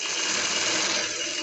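A sewing machine stitches lace along the edge of a dupatta, a close, continuous rapid mechanical whir that runs steadily throughout with no voices.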